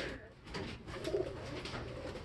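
Pigeons coo softly from an indoor loft in a steady low murmur, with one slightly louder coo standing out partway through, over a faint room hiss.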